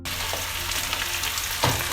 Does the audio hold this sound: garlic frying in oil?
yes